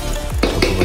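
Asphalt concrete mix being stirred by hand in a laboratory pan, a steady scraping and gritty churning with a few sharper strokes, close and fairly loud with no voices.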